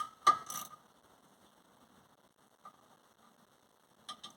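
Ratchet slackening a brake caliper bolt on a 2007 Vauxhall Astra H, a few sharp metallic clicks and rattles close by, separated by near silence, with another short cluster of clicks at the end.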